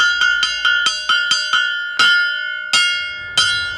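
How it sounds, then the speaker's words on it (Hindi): A railway station bell at Venkatapuram rings to announce an arriving train: a quick run of bright metallic strikes, then three slower, louder clangs ringing out clearly with no voices. "अगले 5 मिनट में यहाँ ट्रेन आने वाली है, जिसकी सूचना घंटी बजा के दी जा रही है।"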